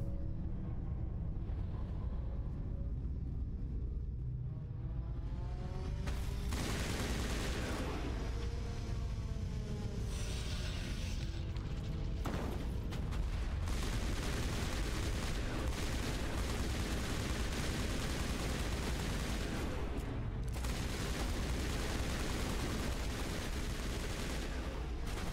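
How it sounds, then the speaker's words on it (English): Gunfire from the video game Mass Effect Legendary Edition during run-and-shoot combat: dense, continuous bursts of shots and impacts layered over game noise, steady and loud throughout, with no talk. "So this is just run and shoot"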